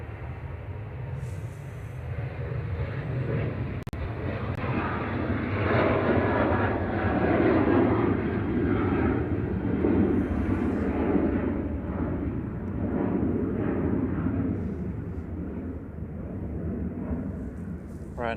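A Boeing 737-800 jet at Manchester Airport roars past, its engine noise swelling to a loud peak midway and then slowly fading, a steady broad rumble with no talk.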